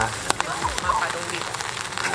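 Rain falls in Nara, Japan, as a steady, close hiss and patter with scattered sharper drops, and a voice briefly present underneath.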